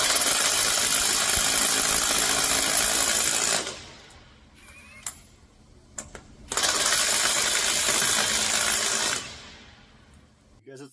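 Ryobi cordless impact wrench removing car wheel nuts, two loud sustained bursts of hammering rattle, each a few seconds long, separated by quieter handling clicks and knocks.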